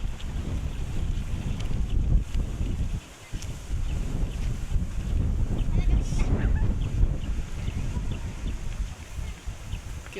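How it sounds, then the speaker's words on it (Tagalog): Strong cold wind sweeps across a mountain area, buffeting the microphone in loud, uneven gusts with a brief lull partway through, with no talking. "Sobrang lamig guys. Sobrang hangin."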